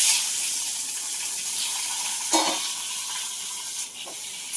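Chopped capsicum pieces dropped into hot tempered oil in a pan, giving a steady close hiss and sizzle throughout with a couple of brief louder clatters of stirring, no talking.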